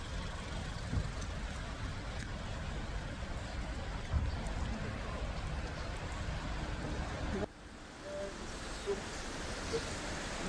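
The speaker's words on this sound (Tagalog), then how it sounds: "Grabe yung ulan." Heavy rain pours steadily as a dense, even hiss close by, with a faint engine-like rumble underneath; partway through the wash abruptly drops in level, then continues at a lower volume.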